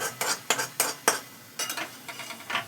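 A utensil scrapes and clinks against a pan while bean filling is stirred and fried, giving several sharp, irregular strokes close by over a faint sizzle, with no talk.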